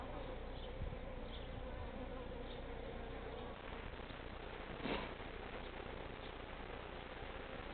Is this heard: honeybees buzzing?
yes